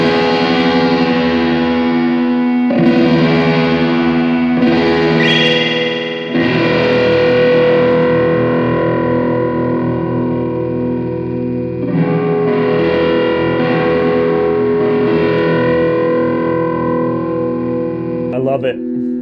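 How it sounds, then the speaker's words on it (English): An electric guitar plays through a vintage Boss DD3 digital delay pedal with distortion, giving loud, sustained, gritty chords with repeating echo tails across several phrases. "Let's see what that sounds like with distortion."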